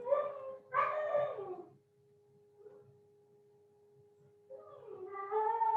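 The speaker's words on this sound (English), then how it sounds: "That is my dog, not a baby." A pet dog barks and howls in a home during an online chemistry class: drawn-out, rising-and-falling howls at the start, a quiet gap with faint tones, then another long howl at the end.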